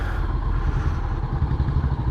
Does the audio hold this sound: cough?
no